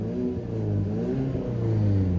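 A Mazda 3 car engine runs close by, giving a steady, low rumbling hum that swells slightly as if revving, with no voices over it.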